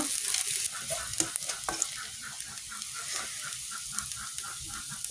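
Fish pieces rubbed with salt and turmeric frying in a pan, a close, constant crackling sizzle with a few spatula taps and stirring scrapes near the start.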